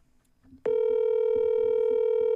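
After a faint murmur, a steady electronic telephone dial tone starts abruptly and holds loud and unbroken while a call is placed during a live stream.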